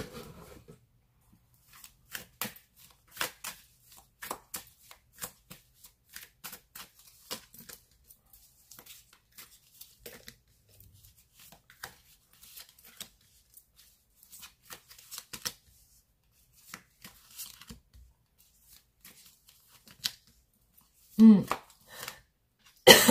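Tarot cards are shuffled by hand for a card reading, producing long runs of quick, close, papery riffling and flicking with brief pauses, ending in a louder handling burst.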